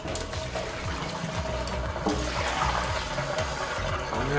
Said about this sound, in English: Now turn off the water.